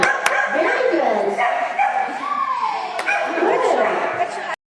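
A dog barks and yips with excitement during agility training outdoors, short barks mixed with a handler's loud, enthusiastic praise and a few sharp knocks.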